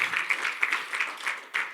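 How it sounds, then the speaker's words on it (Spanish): A church congregation claps in rhythmic bursts, moderately loud and fairly close, with uneven accents of clapping across the brief stretch and no talking. "denle un aplauso al Señor"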